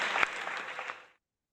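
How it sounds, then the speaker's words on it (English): Brief round of applause for the judges and panelists at a startup pitch competition and investor panel, a soft wash of clapping with one sharp clap near the start, fading out after about a second. "let's give our panelists a round of applause, our judges and panelists"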